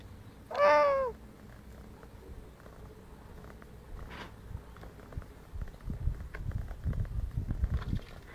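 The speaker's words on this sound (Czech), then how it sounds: "Zamňaukej." A cat gives one clear, loud meow near the start, followed by quieter rustling and soft footsteps that pick up toward the end.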